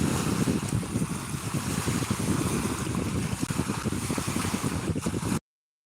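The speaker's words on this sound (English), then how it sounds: "listen to the soothing sound" Water flowing outdoors at a fishing spot, a loud, steady wash of rushing water with wind, continuous and close, ending abruptly in silence.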